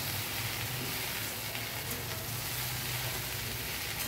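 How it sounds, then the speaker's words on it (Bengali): Steady, dense sizzling of okra with turmeric frying in a pan, a continuous crackle with occasional soft stirring, no voices. "হলুদটা দিয়ে ঢ্যাঁড়সটাকে ভালো করে নাড়াচাড়া করে কিছুক্ষণ ভেজে নেব।"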